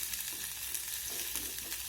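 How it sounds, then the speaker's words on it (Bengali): Chopped garlic and green chili frying in hot oil in a pan, a steady close sizzle with faint scraping of stirring, no voices. "কাঁচা লঙ্কাটাকে ভেজে নিতে হবে।"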